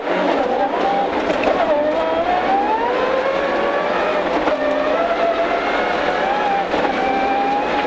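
A radio-controlled car pulls away after a countdown, its electric motor whining steadily and rising and falling in pitch as it drives off, loud and continuous throughout.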